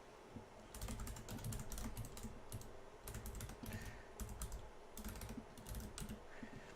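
Steady typing on a computer keyboard while entering a server address, quick close clicky keystrokes in bursts with short pauses, faint overall and no voices.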